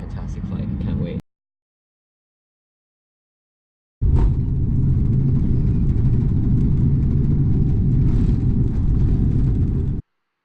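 A Korean Air Boeing 747-8 with four engines rolls for takeoff, heard from inside the cabin as a steady loud roar after a short burst and a gap of silence.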